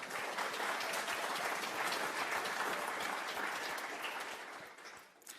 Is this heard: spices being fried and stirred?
no